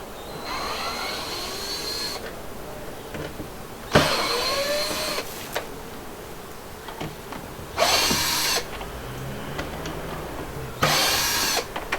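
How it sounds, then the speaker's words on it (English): A power drill whirs in three separate bursts, each lasting about a second or so, removing a cooler lid, with quieter mechanical clicks and handling noises between them. "we need to start off with our drill"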